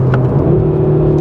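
A BMW M2 sports car's engine drones in a loud, steady low rumble with a slight rise as the car pulls away, heard close and alone.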